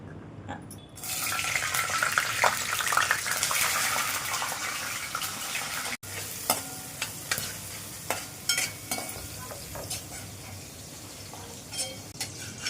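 Cashews frying in a pan for veg pulao, a steady bright sizzle that runs on without talk, with a brief break around the middle and some scattered clinks as the nuts are stirred.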